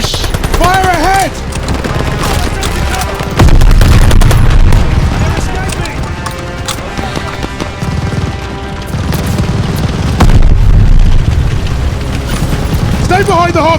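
Machine gun fire in the World War II shooter Call of Duty: Vanguard, near half tracks: loud, continuous bursts and booming explosions throughout, with shouted voices over the battle.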